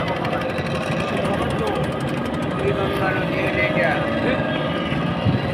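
A small motorboat engine drones steadily throughout while crossing the Buriganga River, loud and continuous, with people talking over the motor's hum.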